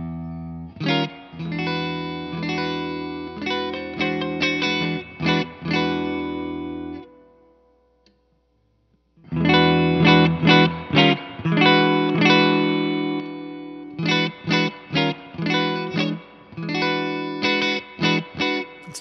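A PRS Swamp Ash Special electric guitar on its middle pickup plays a run of picked notes and chords, close and moderately loud, with a short silent pause midway and no talk.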